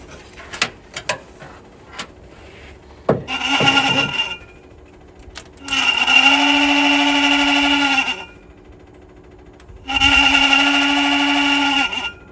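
An electric motor spins up three times with a steady hum and whine, each run lasting a few seconds, with a slight wobble, separated by quiet gaps with clicks and handling noise.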